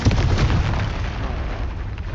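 A Confringo fire spell explodes in Hogwarts Legacy, a single deep booming blast with a rumbling tail that fades over about two seconds.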